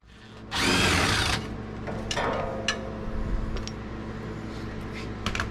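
A power tool driving out 8mm fasteners on the front bumper of a Ford Ranger FX4: a short loud burst of whirring, then quieter clicks and brief mechanical rattles nearby.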